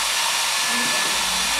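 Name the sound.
hair dryer blowing air, holding a ball up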